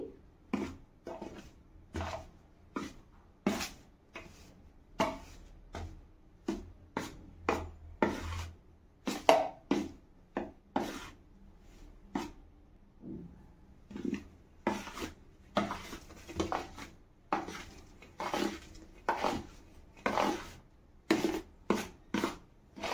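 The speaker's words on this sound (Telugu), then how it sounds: "ఇవ్వండి ఈ విధంగా చేతితో కలుపుకుండా ఈ గరిటె పెట్టి కలుపుకోవాలి" Rice-flour murukku dough being mixed with a ladle in a bowl, giving a steady series of close scraping and knocking strokes, each followed by a short pause, with no speech.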